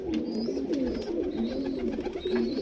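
A pair of black high-flyer pigeons coo steadily and close by, their low rolling calls repeating through the whole stretch without pause.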